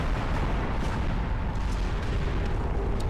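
Loud, dense gunfire and explosive booms from the video game Space Marine 2, a continuous barrage of shots and blasts filling the scene without any speech.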